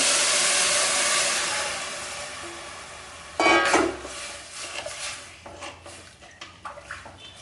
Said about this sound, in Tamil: மூணு டம்ளர் தண்ணி ஊற்றுவோம்